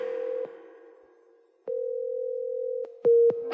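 Telephone busy signal: a steady mid-pitched tone that breaks off, returns, and repeats with short clicks between segments, heard alone without talk.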